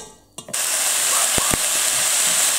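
Two onions sizzling as they brown in a cooking pan, a loud steady hiss that starts abruptly after a brief quiet moment, with a couple of short clicks midway.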